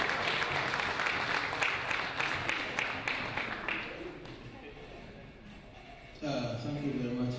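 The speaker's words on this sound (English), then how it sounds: "You can clap for me as you can." Audience applause at a cooperatives registry presentation, a clapping crowd heard at moderate distance that fades away before a voice begins speaking.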